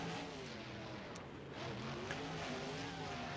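A supercharged monster truck engine in BeamNG.drive revving with a high supercharger whine, steady and fairly faint, pitch wavering slightly over a few seconds, with no voices.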